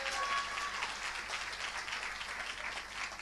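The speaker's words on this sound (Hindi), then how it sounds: "जोरदार तालियां" A church congregation at a midnight Christmas service bursts into loud, sustained applause, a dense wash of many hands clapping steadily from start to finish.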